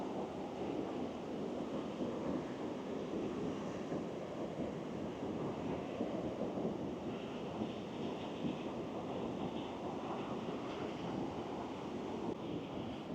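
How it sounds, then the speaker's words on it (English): Ocean waves surge steadily onto the rocky coast at Cape Cornwall, where the Celtic Sea meets the Atlantic, a continuous moderate roar of surf mixed with wind. "Fantastic waves."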